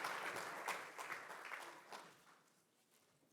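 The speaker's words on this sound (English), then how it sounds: "Let's give a round of applause for our panelists up here." An audience at a symposium panel on emerging technology applauds the panelists, fairly faint clapping that swells and then fades to near quiet, ending with a short burst.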